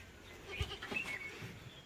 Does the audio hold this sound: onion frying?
no